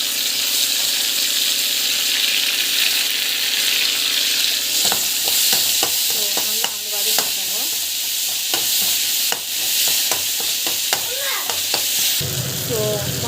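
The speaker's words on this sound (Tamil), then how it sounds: "டமாட்டோ ஆட் பண்ணிவிட்டு நல்லா வந்து வதங்கணும்." Tomatoes sauté in a frying pan with a steady sizzle, while a spoon scrapes and stirs in repeated strokes through the middle of the clip.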